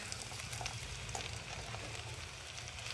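Boiled potatoes go into a hot tempering of spices for Odisha-style aloo bharta, producing a soft, steady sizzle that stays fairly quiet and even throughout.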